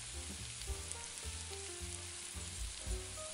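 Onions fry in hot extra virgin olive oil. The sizzle is soft and constant, with faint low thumps and small tonal clinks underneath, no speech.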